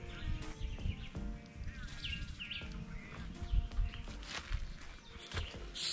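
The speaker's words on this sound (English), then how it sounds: "Yeah, the birds, them are chirp." Birds chirp in the Jamaican bush at an outdoor cooking spot, with scattered short calls over a busy background of rustling and movement, moderately close and fairly quiet.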